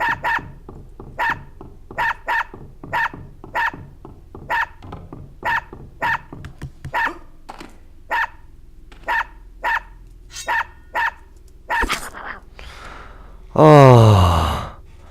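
A dog barks repeatedly in the video game Unepic: sharp, evenly spaced barks keep a steady rhythm for about twelve seconds. A louder, sweeping burst of game noise follows near the end.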